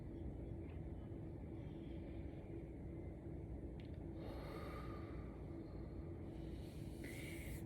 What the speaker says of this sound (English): So I'm going to inhale for 3 seconds and then exhale for 3 seconds.